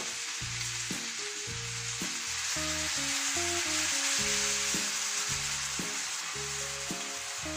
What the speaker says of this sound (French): on vient déglacer avec du vinaigre de noix, une larme